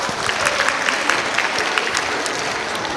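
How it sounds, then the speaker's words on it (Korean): Audience applause at a children's winter science concert, dense continuous clapping from a crowd held at a steady, fairly loud level throughout with no pauses. "박수 한번 보내주세요"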